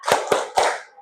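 An audience claps a rhythmic spirit clap, three loud, sharp, unison claps in quick succession, each with a short ringing tail, then a brief quiet trailing off.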